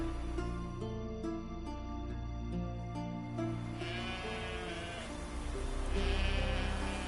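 Sheep in The Witcher 3: Blood and Wine bleat several times in quick succession at moderate distance, with other ambient game sounds running underneath.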